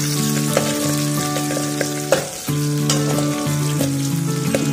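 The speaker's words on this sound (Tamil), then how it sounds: "கட் பண்ணி வச்ச பெரிய வெங்காயம், கருவேப்பிலை நல்லா பொரிஞ்சமா ஆக வரைக்கும் நல்லா வதக்குங்க" Sliced large onions and curry leaves sautéing in a pan with popped mustard seeds, a loud, steady sizzle with occasional stirring scrapes, partly under a sustained tonal backdrop.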